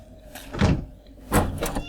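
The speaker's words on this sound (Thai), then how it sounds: "เปิดประตูโอ้โห เสียงประตูที่สุดยอด" A door opens in the survival game 7 Days to Die, giving two distinct creaking, scraping surges about half a second apart, close and moderately loud with no talk.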